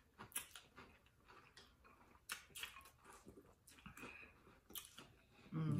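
Someone chews crunchy Cap'n Crunch cereal with orange juice close to the mic, giving irregular crisp crunches and clicks at a fairly quiet level, ending with a louder rumble.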